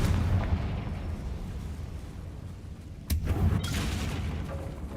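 A sudden booming blast from the Confringo fire spell in the video game Hogwarts Legacy, bursting out over a steady rumbling background after a stretch of ambient noise.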